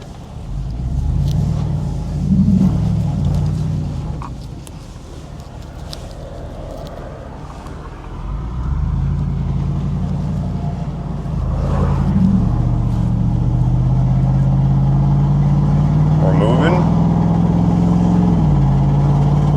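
A junkyard Ford F250 pickup truck engine drones steadily nearby, rising in pitch as it accelerates and shifts into second gear, with occasional rattles, clunks and scraping underneath.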